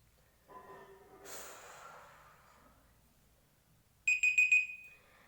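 Quiz countdown timer sound, a soft whooshing tone swell followed by a rapid series of loud, bright electronic beeps ending in a sustained tone.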